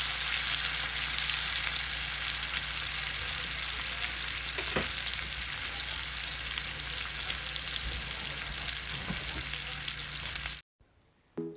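Meat and vegetable kabobs sizzling steadily on an outdoor grill, a dense continuous hiss with a few faint knocks as they are turned, cutting off abruptly near the end.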